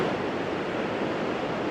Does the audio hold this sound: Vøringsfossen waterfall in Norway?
yes